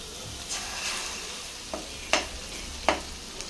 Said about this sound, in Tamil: இப்போது சென்டரில் ஒரு ரெண்டு முட்டையை உடச்சிட்டு சேர்த்துக்கலாம்